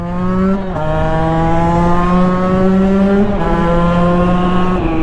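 The two-stroke engine of a 2016 Husqvarna 125 TE dirt bike revs high and sustained, briefly dropping pitch twice before climbing back to a loud, raspy whine.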